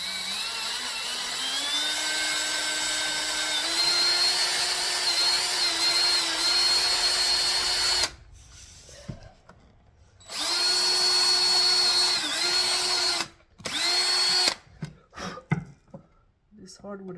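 A power drill bores into very hard hardwood flooring, whining loudly and close in two long steady runs with a brief pause between them, then stopping into short bursts and quiet handling noise.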